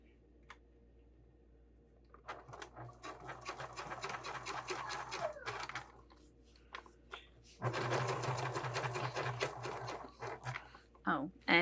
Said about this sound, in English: I'm going to switch back to my Teflon foot to top stitch this.